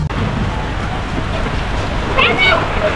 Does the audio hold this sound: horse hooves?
no